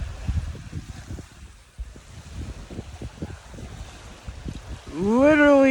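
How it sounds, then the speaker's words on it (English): Wind gusts outdoors at a high spot, rumbling and buffeting the microphone in an uneven low roar, with a rising tonal whine near the end. "it's just about as windy as it was yesterday"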